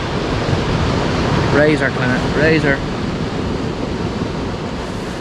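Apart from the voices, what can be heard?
sea waves and swell at night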